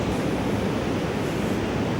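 Sea waves washing onto the shore make a steady, soft surf hiss with no voices.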